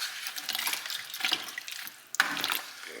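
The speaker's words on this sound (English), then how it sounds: "quick stir." Pear wine must being stirred after two cinnamon sticks go in for primary fermentation, a brief liquid swish and slosh with small splashy clinks, close and alone.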